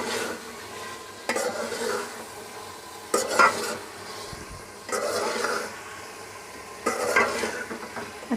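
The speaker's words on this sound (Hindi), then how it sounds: "चिकन डालने के बाद इसको अच्छे से भुनेंगे।" Chicken pieces stirred and fried in a pan during preparation of a chicken and potato curry, with bursts of scraping and sizzling that recur every couple of seconds between quieter stretches of steady frying.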